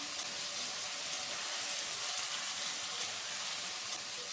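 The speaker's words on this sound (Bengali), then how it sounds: "ফ্রাই করে নিলাম" Garlic paste sizzles with already-fried onions in a hot pan, a steady, close, even hiss of frying that runs the whole time with no talk.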